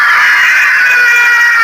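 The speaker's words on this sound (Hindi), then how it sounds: "शुरू हुई कमरे में लोगों की दर्द से चीखने की आवाजें" A loud, sustained high-pitched scream of people in pain, used as a horror effect inside a haunted jail, piercing and unbroken with no talk.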